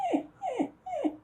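A dog whimpers in three short, high whining cries, each sliding downward, evenly spaced and close by with no talk over them.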